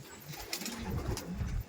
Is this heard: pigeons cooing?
yes